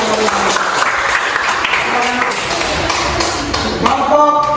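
Group applause from students in a classroom after a music presentation, a steady dense patter of clapping at close range with voices mixed in throughout.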